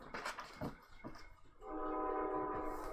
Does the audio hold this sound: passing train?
yes